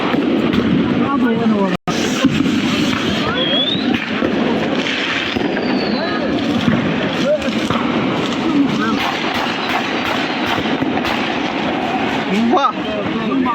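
Continuous crackling bangs from firecrackers going off in a dense, rapid barrage at New Year in Nuremberg, Germany, loud and close, with a brief dropout near the start.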